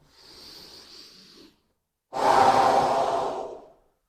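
A person breathes during beginner qi gong and tai chi practice. A soft breath is followed by a pause, then one long, loud inhale heard up close, with no talking.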